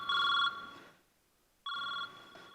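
A mobile phone rings indoors with two bursts of a bright electronic ringtone separated by a short pause, close and clear.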